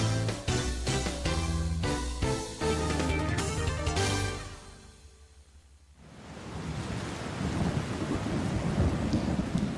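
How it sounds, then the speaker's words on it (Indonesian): Heavy rain with thunder: a loud rolling thunderclap rumbles and fades over the first six seconds, then steady hissing downpour continues close by. "Astagfirullah, hujan sedikit aja, kubahnya sudah bocor lagi."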